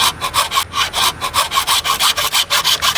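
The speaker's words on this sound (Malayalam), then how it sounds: "ഈ മഞ്ഞ മുള വെട്ടിക്കൊണ്ടിരിക്കുകയാണ്." Yellow bamboo is hand-sawn in quick, even back-and-forth strokes, each a loud rasping burst. The strokes repeat steadily and close up, with no talking.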